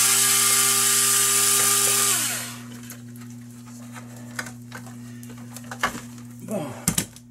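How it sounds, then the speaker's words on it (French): A powered driver whirs loudly for about two seconds while unscrewing a screw during repair and cleaning of an air conditioner, then winds down into quiet clicks and handling noises. "Il va falloir que je dévisse"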